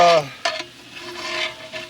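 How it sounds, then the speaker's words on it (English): Chicken and sausage fry in a pan over a wood-fired rocket stove, a soft steady sizzle with a few sharp pops and a brief stir or scrape near the start, fairly quiet and with no talking. "it starts to pop, like it sounds like bacon frying and not like water boiling"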